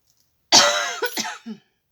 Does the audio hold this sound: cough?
yes